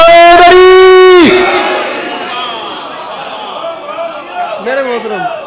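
Loud crowd at a Shia majlis gathering, answering the call with the Naara-e-Haidari chant, a sustained full-throated voiced shout followed by a lower, fading murmur and scattered cries.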